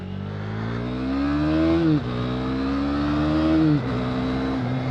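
A 2020 KTM Duke 390 motorcycle's 373cc single-cylinder engine revs and accelerates through gears, rising in pitch twice with quick drops at each shift, loud and close.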